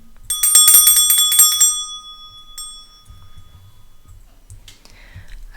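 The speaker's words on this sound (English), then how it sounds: "I'm going to start by clearing the energy with my bell." A handheld bell is rung several times in quick succession at the start of a tarot reading, bright and ringing close by, then its tone fades out into near silence with faint rustling.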